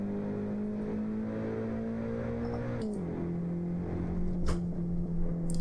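A BMW E30 M3 on the Tajo hillclimb holds a steady, droning engine note, heard from inside the car, that drops after a shift near the midpoint and then holds again, with occasional brief knocks.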